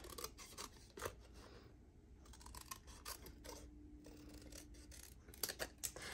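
Scissors make several straight cuts through a paper treat box template for a card-making craft, with quiet snipping and rustling close by and short pauses between cuts.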